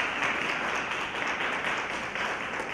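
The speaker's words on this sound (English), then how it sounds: "You all give Mayor Dixon a hand clap of praise." An audience gives a steady, dense round of applause for a mayor at a community public forum, the clapping continuous and even throughout.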